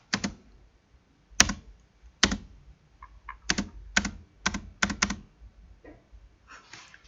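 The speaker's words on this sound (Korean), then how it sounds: "스페이스바를 누르면" Keys tapped on a computer keyboard during a rock-paper-scissors AI demo at a Seoul maker festival, with sharp, clicky strokes arriving singly and in quick pairs with short pauses between, close and clear.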